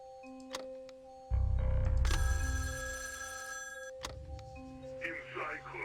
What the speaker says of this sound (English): Oh, there's the phone.